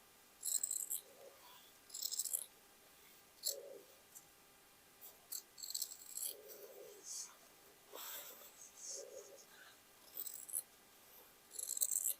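Scissors snipping through denim fabric for a patchwork jacket, a series of short crisp cuts in irregular bursts, close and fairly quiet with no talk.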